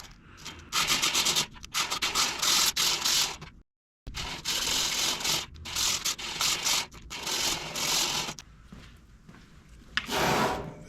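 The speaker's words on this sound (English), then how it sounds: "A piece of sandpaper on a flat surface seems to work just about as well as anything for flat stock." Sandpaper laid on a flat surface scrubs rust off a flat metal bar from a Troy Bilt riding mower, giving loud, close, rasping strokes in quick bursts with one short pause.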